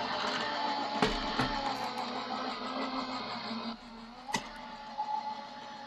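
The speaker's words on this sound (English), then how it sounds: "I will go ahead and run these through my die cut machine" Die cut machine feeding card stock through: a steady mechanical motor hum and rumble with a few clicks and clunks, close by and without speech.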